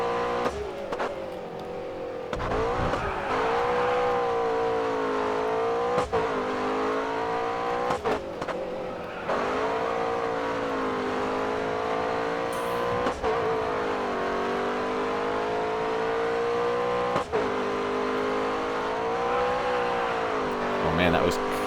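Race car engine in GRID Autosport during an endurance race, a steady loud whine rising and falling through gear changes, with tire noise and brief knocks, while someone talks over it.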